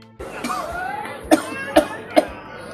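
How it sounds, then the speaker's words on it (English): A person coughs three times in quick succession, sharp and close, after a stretch of low murmuring speech in a Nigerian drama scene. "why no one do something for this your cough?"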